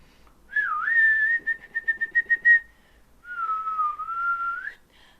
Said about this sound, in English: I can't whistle tunes, I can only do random sounds